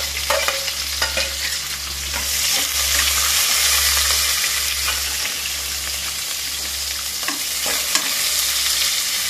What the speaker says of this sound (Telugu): ఉల్లిపాయలు వేసిన తర్వాత మనకు చిట్పట్లాడుతుంది.